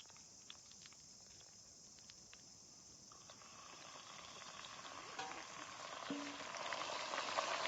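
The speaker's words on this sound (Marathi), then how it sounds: "हे असं त्याला उकळी आली की कडलं म्हणायचं तूप" Ghee heating in a pan, a soft bubbling sizzle that starts faint and grows gradually louder and busier toward the end, with a few light clinks.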